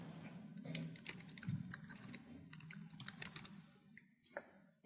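Rapid bursts of key clicks on a computer keyboard as an address is typed in, fairly close and quiet, with uneven pauses between short runs of keystrokes.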